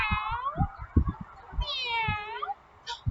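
A voice imitates a cat, giving several drawn-out meows in a row, close and clear, with a few soft knocks and rustles underneath.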